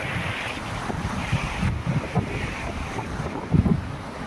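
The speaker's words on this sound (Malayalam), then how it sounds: "നമ്മൾ കടൽക്കാറ്റ് കൊള്ളാൻ വേണ്ടി കടൽ തീരത്തേക്ക് വന്നിട്ടാണ്" Sea breeze blowing across a Lakshadweep beach, steady wind buffeting close to the microphone over a low wash of surf, with soft irregular thumps.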